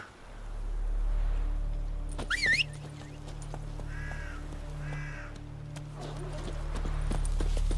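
Roach the horse galloping in The Witcher 3 video game, steady rhythmic hoofbeats over a low ambient hum, with crows cawing and a brief whinny partway through, no talk.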